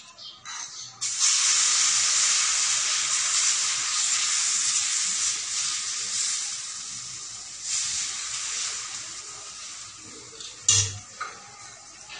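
Ragi flour dosa batter spread on a hot griddle gives a loud, sustained hiss that settles into a steady sizzle, with a brief clatter of a utensil near the end.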